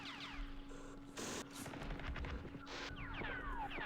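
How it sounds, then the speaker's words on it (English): Machine gun fire in the strategy game Campaign Series East Front, faint bursts of rattling shots under steady background hum and whistling, fairly quiet throughout. "Let's unleash these machine guns."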